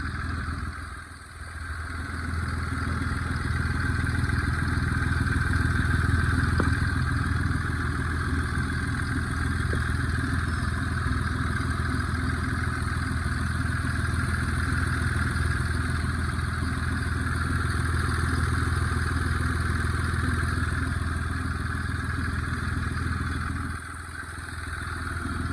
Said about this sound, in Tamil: இந்த Hyundai Accentோட இன்ஜினை வந்து பார்த்தீங்கன்னா நான் ஸ்டார்ட் பண்ணிட்டேன்